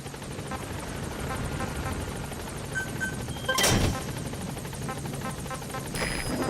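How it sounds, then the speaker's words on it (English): A support helicopter arriving at a landing zone in Metal Gear Solid V: The Phantom Pain, its steady rotor thrum and engine whine continuing throughout, with a brief louder whoosh midway. "Support helicopter has arrived."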